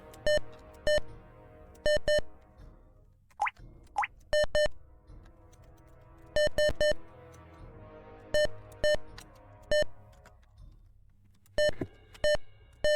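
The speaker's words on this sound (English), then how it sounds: "No matter what I press, it's just beeping at me." Electronic beeps from the MegaTraveller computer game as keys are pressed, short clear tonal bleeps in quick pairs and triplets with gaps between, plus a couple of brief pitch-sliding blips, alone and fairly loud.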